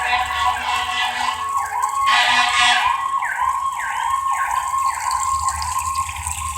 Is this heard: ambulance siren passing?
yes